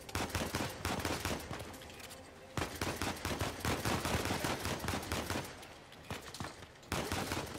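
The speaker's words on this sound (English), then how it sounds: "He's shooting at me through the cage." Rapid bursts of gunfire from the video game Uncharted 4: A Thief's End fill the whole stretch, loud and dense, with brief pauses between volleys as shots ring out around a cage.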